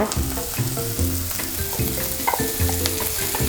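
Onions frying in a pan for oyakodon, a Japanese chicken-and-egg rice bowl, with a steady loud sizzle broken by repeated rhythmic stirring scrapes, close up, no talking.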